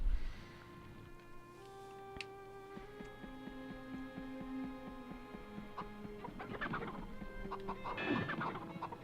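Video game chickens cluck and murmur in short, scattered bursts over a steady background hum, growing a little busier toward the end.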